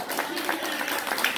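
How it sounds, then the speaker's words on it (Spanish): Audience applause for Mariachi San Mateo at a show in Dallas, a full, continuous burst of clapping from the crowd with a voice faintly underneath. "Fuerte el aplauso para nuestro mariachi San Mateo."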